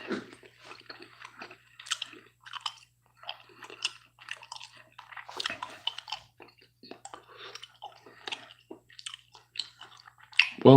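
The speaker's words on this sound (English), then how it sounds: "I'm gonna chew it." Close, wet chewing of a stick of Juicy Fruit gum, with smacking and squishing mouth sounds repeating irregularly throughout, loud at the microphone, no one speaking.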